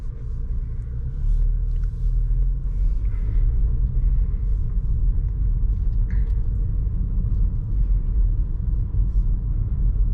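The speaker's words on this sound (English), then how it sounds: "So the car is in drive and we go off." A Porsche Macan pulls away in drive with a warm engine, a low steady rumble of engine and road noise from inside the cabin, continuous and fairly loud, with faint ticks and clicks above and no speech.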